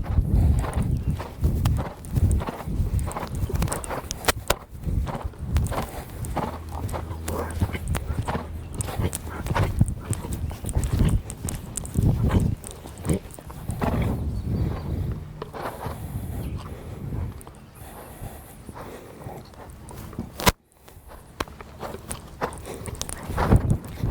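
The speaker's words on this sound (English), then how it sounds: "Now this horse I've been riding lightly for 2 or 3 minutes" A horse ridden at a walk during a show-jumping clinic session, hooves clip-clopping steadily and close by over a continuous bed of arena noise, with brief scattered sounds and no clear talk.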